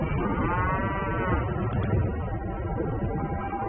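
Cattle lowing in a remote cow pasture north of Phoenix, a drawn-out moo rising and falling over steady rumbling outdoor ambience, fairly close and loud with no one speaking.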